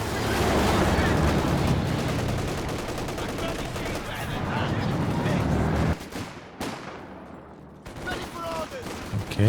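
Heavy mortar fire and dense battle noise from a Company of Heroes 2 match, a steady roar of loud shots and blasts that thins out near the end, with voices mixed in.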